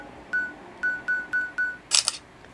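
Samsung Galaxy A7 rear camera firing five short, evenly spaced confirmation tones followed by a crisp double shutter click, close and clear with no talk.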